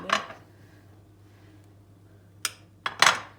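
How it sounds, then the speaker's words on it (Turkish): A few sharp metallic clinks and knocks as a cooking pot is picked up while making chocolate soufflé, one near the start and a cluster of quick clanks toward the end, with quiet gaps between. "şimdi tenceremizi alıyoruz"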